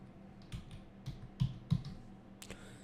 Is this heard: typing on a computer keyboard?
yes